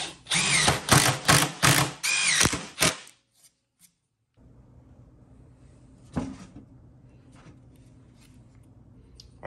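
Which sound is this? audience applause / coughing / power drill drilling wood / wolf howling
power drill drilling wood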